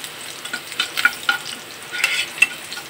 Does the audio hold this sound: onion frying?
yes